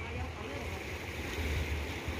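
Midday waves wash onto Cheung Chau beach in Hong Kong, a steady broadband roar of surf with some wind buffeting the microphone, continuous and even throughout.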